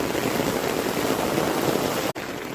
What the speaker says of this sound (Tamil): ஃபுல்லாக மழை பெய்யுது.